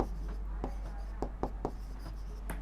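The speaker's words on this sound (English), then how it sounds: "Let us write it." Chalk or marker writing on a classroom board for a maths lesson, heard as a series of short tapping strokes in an uneven rhythm over a steady low hum, fairly quiet and close.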